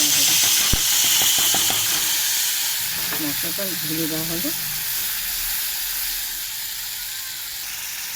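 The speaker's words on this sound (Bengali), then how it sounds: "মশলাটা দেখো ফুটছে।" Spice paste thinned with water bubbles and sizzles in a hot pan for a light fish curry, a steady close hiss throughout, with a few clinks and a person speaking briefly over it.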